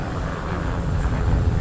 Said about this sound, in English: I believe that is the police helicopter.